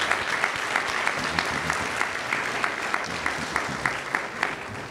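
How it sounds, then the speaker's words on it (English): Audience applause at a college athletic hall of fame enshrinement luncheon, a dense, steady clapping from a large room that holds evenly for several seconds. "Let's give all of our honorees another round of applause."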